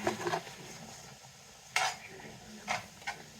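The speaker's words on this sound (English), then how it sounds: "So we're sauteing it." Mushrooms sautéing in a pan crackle with a steady low sizzle, broken by a few sharp utensil scrapes and stirs against the pan; close and fairly quiet, with no talking.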